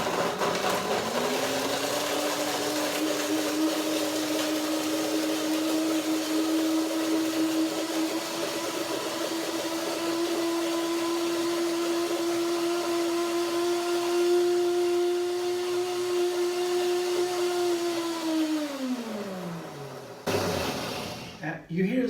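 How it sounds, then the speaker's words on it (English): Blender whirring through dates for a date mousse base for raspberry banana ice cream, its high motor whine rising in pitch then holding steady for a long stretch before winding down and stopping. "You hear the sound is spiraling up, gets higher and higher. That means the blender is faster and faster"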